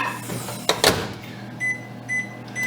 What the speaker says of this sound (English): Also with this recipe, out of my microwave,